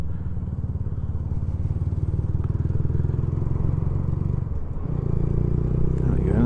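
A 125cc motorcycle engine drones steadily up close, then dips and changes pitch near the end as the rider shifts gears, with wind and road rumble beneath.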